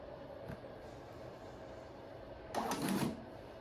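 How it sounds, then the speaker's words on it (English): A receipt printer prints a test page: a brief mechanical whir and rattle bursts out for about half a second near the end, a short paper-feed sound over a quiet room hum. "this printer just printed the paper"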